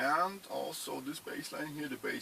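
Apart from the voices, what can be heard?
No distinct noise like a dog, phone or traffic.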